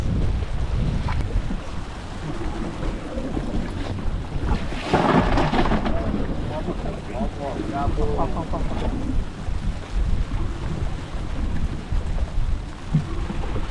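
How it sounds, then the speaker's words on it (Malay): Heavy rain pours steadily by a lake, with rumbling thunder and gusts of wind buffeting the microphone, loud and continuous throughout. "Oi, lebat pula hujannya."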